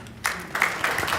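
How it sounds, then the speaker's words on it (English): Scattered applause from mourners at a funeral service, a few bursts of clapping rising and falling over a second, fairly close and moderately loud. "Oh, I'm getting a clap."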